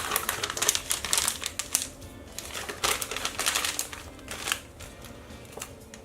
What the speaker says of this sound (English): we're going to grab a pair of scissors and just snip off the end of that bag